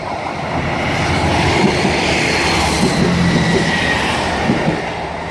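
A Class 158 diesel multiple unit bound for Peterborough rumbles loudly and steadily past a level crossing at Sincil Bank, its broad roar filling the whole stretch with faint wheel and rail noise.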